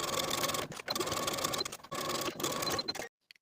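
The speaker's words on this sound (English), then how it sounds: "Now we can sew this seam with a 3/8 inch seam allowance." A sewing machine stitches a blouse seam in quick rapid bursts, with short pauses between runs and a few faint clicks after it stops.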